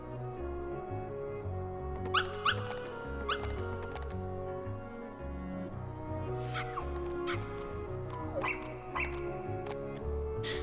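Puppies in a Disney video game yip and squeak in short high cries over a steady looping game music bed, several yelps scattered through the passage, with no talking.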